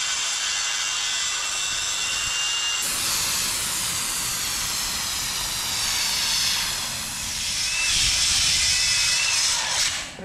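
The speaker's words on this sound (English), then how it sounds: "just picked up this Milwaukee grinder and I really like that it has the brake" A Milwaukee angle grinder spins steadily with a loud, continuous high whine and hiss, then its brake kicks in near the end and the motor rapidly winds down to silence, all on an outdoor garage build site.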